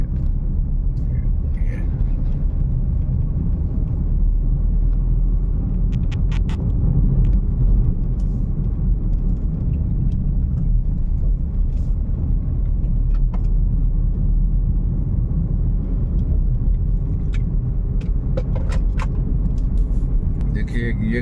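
Vehicles on the Kanpur–Sagar highway, a loud continuous rumble of car and truck engines and tyres passing close by, with someone talking over the traffic throughout.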